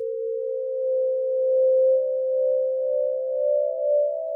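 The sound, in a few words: isolated minor seventh harmonic from synth pulse width modulation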